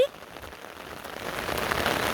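Rain falls steadily during a storm with lightning and wind, making a soft hiss that grows gradually louder. A brief tone sounds at the very start.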